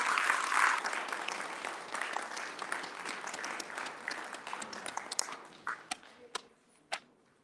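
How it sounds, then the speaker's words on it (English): Audience applause at a Shivaji Maharaj Jayanti celebration in the USA: dense clapping from a gathered crowd that thins out toward the end into a few scattered, isolated claps. "Let's have a huge round of applause for everyone gathered here to celebrate this day."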